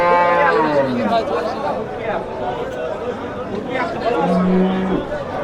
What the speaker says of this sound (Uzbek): Bu tomondan ham bu tomondan ham sigir kelyapti.